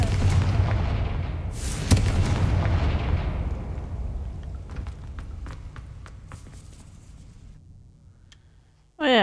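A Confringo blasting spell in Hogwarts Legacy sets off a heavy explosion whose rumble slowly fades over several seconds, followed by scattered smaller impacts and a sharp burst at the end.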